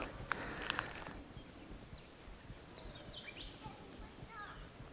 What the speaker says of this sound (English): Lots of bird noises.